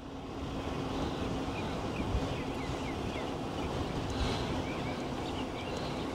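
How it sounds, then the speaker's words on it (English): Wind rushing past during a ride through a residential area, a steady broadband buffeting roar throughout. "Riding into the wind."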